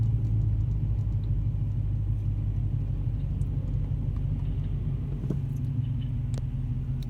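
A low, steady 6.4-liter car engine rumble holds throughout at moderate volume, deep and constant, like a big motor idling close by.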